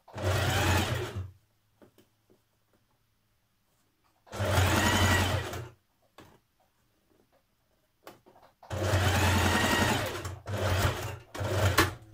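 A sewing machine topstitches along the front edge of a pair of jeans made from a Simplicity 8701 pattern hack, running in three close, steady bursts separated by quiet pauses.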